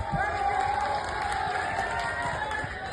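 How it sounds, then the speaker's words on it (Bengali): Crowd cheering and clapping at a dance show in Cumilla, a steady loud roar of voices with shouts, running continuously throughout. "আমি সোহাগ ডান্স গ্রুপের জন্য একটা হাততালি চাই।"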